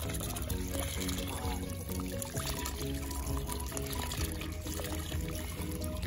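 Clean spring water flowing from a natural source at the foot of a tree in flooded ground, a steady continuous trickle and pour heard up close without pause.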